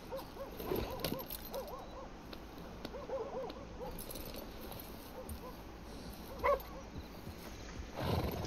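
A horse whinnies faintly amid a busy Red Dead Redemption II soundscape of soft hoofbeats and ambient noise, with a louder snort near the end.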